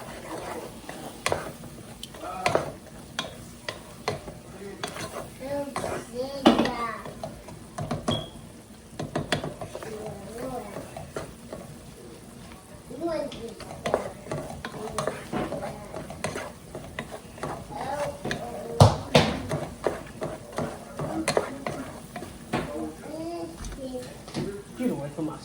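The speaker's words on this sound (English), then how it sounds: "So, we're just going to continue to saute. We want to saute that up for about 5 minutes." Onions are sautéed in a roux for vegan gumbo, giving steady soft sizzling along with repeated scraping and stirring of a spoon in the pot, heard under intermittent talk.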